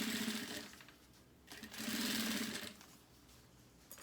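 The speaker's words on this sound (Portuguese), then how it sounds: "Passo uma costura agora com pé de máquina" Sewing machine stitching a fabric notebook sleeve, running in two close bursts of rapid mechanical clatter separated by a short pause, with no voice over it.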